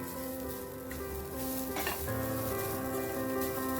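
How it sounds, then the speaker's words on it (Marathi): Grated coconut sautéing in a hot pan, a steady close sizzle and frying hiss with light stirring scrapes running throughout, no voices. "हांव मातशी गरम करून घेता, मातशी सॉटे करता"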